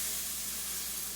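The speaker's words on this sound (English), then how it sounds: "Now I'm going to put in 2 cups of milk." Milk poured into a hot roux in a pan, a soft steady sizzle and steamy hiss, close and fairly quiet, lasting only a moment with no talking.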